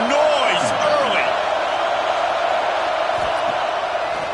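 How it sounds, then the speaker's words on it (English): A football stadium crowd at a college game roars in a steady, loud wash of noise with scattered whoops, continuous throughout. "This crowd bringing the energy and noise early."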